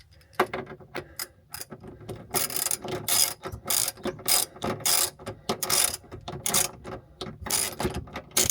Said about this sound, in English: Get this terminal tightened.